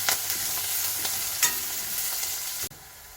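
Chopped ginger and two large garlic cloves fry in a pan for mango pickle, a close steady sizzle broken by a few scraping stirs, then cutting off abruptly near the end.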